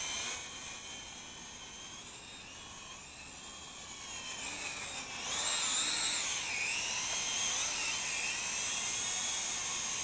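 The small motors of a WLToys Q323B quadcopter drone whine in a steady high-pitched buzz while it hovers nearby, wavering in pitch and swelling louder midway as the thrust shifts.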